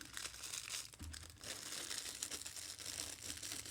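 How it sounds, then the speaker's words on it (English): Close, continuous crinkling and rustling of thin plastic wrappers of Fazer sweets being handled, with a brief soft thump early on; no talking. "Sorry for the rustling."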